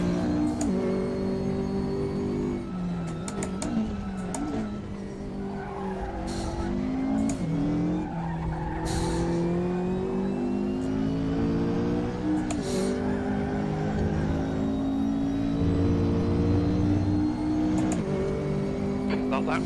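A race car in the Raceroom sim racing game drives hard and loud throughout, its engine note rising and falling through gear changes with tire squeal and skidding, while a voice talks over it.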